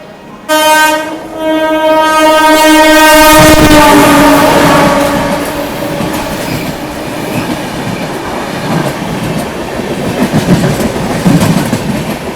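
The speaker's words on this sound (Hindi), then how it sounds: "चलो ग्रीन सिग्नल भी मिल गया अभी अपनी ट्रेन को यहाँ से निकलने का" The Mumbai Rajdhani Express leaves a station with a loud, sustained horn blast, then rolls off into a heavy rumbling clatter that swells and settles as it gathers pace.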